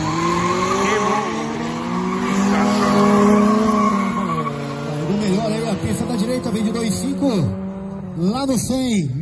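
Tires shriek and skid as cars launch side by side at a Brazilian drag race, a rear-wheel-drive Chevette beside a carbureted Gol G3, the wheels spinning with a long wavering squeal over revving engines and loud crowd noise.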